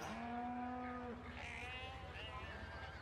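Cows at an animal purchase point in Farming Simulator 17, a low drawn-out moo followed by fainter bleating calls over a steady background hum.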